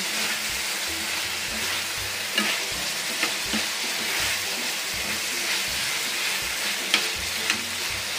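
Creamy chicken being stirred in a hot pan, a steady loud sizzle broken by scattered scraping clicks of the utensil against the pan, with no talking.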